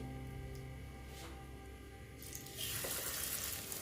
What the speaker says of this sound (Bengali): মনে হচ্ছে তেলটা গরম হয়ে গেছে এখন আমি বড়াগুলো দিয়ে দিচ্ছি